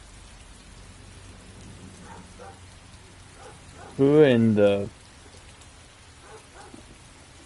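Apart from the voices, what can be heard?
heavy rain outside, from a video game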